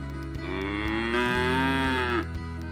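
A single cow moos loudly and close on a farm, one long drawn-out low call lasting a couple of seconds that rises and then falls away at the end.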